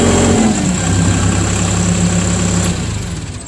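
A Bobcat-style CTX100 compact track loader engine idles steadily right after starting, a loud close diesel drone with a low rumble that eases slightly near the end.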